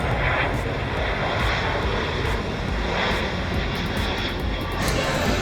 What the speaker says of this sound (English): it wasn't very long until we saw these weird flying devices. Apparently they're called planes.